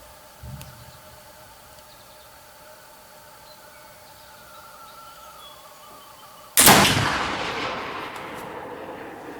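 Kibler Woodsrunner rifle fires a single sharp, loud shot after a long quiet stretch with faint insects and birds, its boom decaying over about three seconds outdoors.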